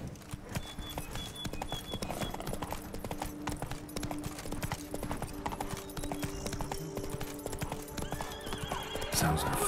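Roach, Geralt's horse in The Witcher 3: Wild Hunt, clip-clops in a steady hoof rhythm with a whinny over it. Game sounds and music run beneath the hooves, and the horse stays close and clear throughout.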